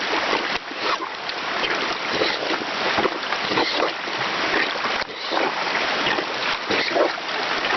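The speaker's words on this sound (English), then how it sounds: "You can hear the sucking and pushing action of the water going through this." Socks soaking in a bucket of water are churned by a plunger, giving a steady, close sloshing and sucking whoosh with repeated surges of splashing water throughout.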